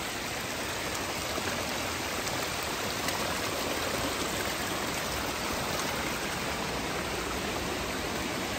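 Water from a stream rushes steadily along a hiking trail near Yebra de Basa, a continuous, even broadband wash at moderate distance with no pauses and no voices.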